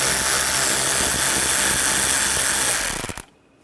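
A power tool drives out the inner wheel well screws of a 2013-2022 Buick Encore 1.4L using a T20 socket, whirring loud and steady close up for about three seconds before cutting off.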